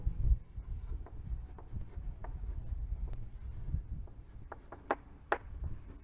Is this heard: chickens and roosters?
no